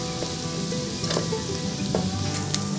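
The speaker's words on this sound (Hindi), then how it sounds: "तो अभी प्याज को ब्राउन करेंगे।" Oil sizzles steadily as chopped onion fries and browns in a pan, with a few soft clicks and stirring scrapes over the constant hiss.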